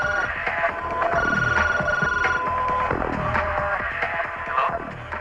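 A telephone rings with repeated electronic warbling tones in a steady pulsing pattern, close and clear, with sweeping descending tones interleaved throughout.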